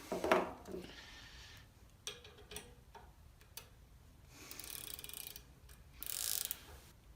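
A Snap-on Dual 80 ratcheting wrench is worked by hand, giving close, quiet bursts of rapid ratchet clicks in uneven spurts separated by brief pauses.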